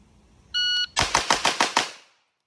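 Six rapid gunshots from a B&T GHM9 pistol-caliber carbine on a shooting range, sharp and evenly spaced, preceded by a brief electronic shot-timer beep, then quiet.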